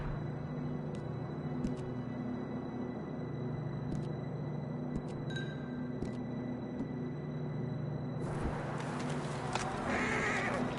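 In a video game, horses neigh and whinny over a steady low ambient hum, with scattered hoof clops and a burst of louder hoofbeats and movement near the end.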